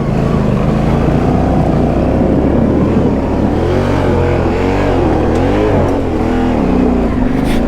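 A car drives through a deep ford in first gear on the Robin Hood Loop in North Nottinghamshire, a loud continuous engine drone and water rush with rising and falling revs as it pushes through.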